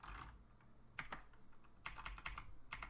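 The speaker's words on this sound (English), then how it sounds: "we're just going to press backspace on that." Computer keyboard keys pressed during game modding work in Unity, a few soft clicky taps in short clusters, close and fairly quiet, with no talking.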